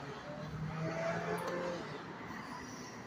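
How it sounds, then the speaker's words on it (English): A Harley-Davidson motorcycle engine hums steadily throughout, with a slight swell in the middle as it revs a little, fairly close and continuous. "It's a motorcycle."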